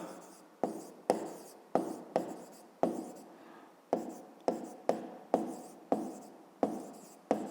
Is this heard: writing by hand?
yes